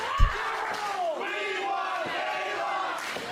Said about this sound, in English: And the crowd chanting, "We want Kayla,"